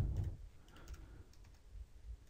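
Someone types a short search into a computer keyboard, producing faint, scattered key taps up close in a quiet room, with no talking.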